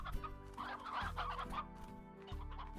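Chickens in the video game Slime Rancher cluck softly and steadily in repeated low calls, heard faintly with no talking.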